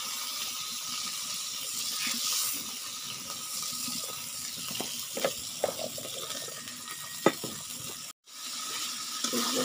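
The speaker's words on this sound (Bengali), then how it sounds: "মশলাটা কষাইতেছি।" Spice paste being fried and stirred in a pan in a home kitchen, with a soft continuous sizzle, scattered scraping stirs and clinks, and a brief break near the end before the sizzle resumes.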